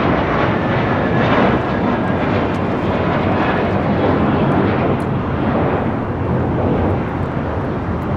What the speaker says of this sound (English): This is Suavementa taking off to Newark. It's JetBlue Airways Flight 1374 on an A321.